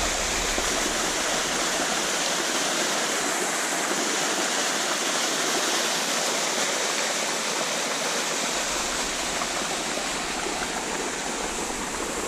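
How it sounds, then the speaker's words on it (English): A waterfall pours in a steady, dense roar, loud and close, unbroken for the full length with no voices over it. "look like a nice waterfall there to go and sit down, massage your back."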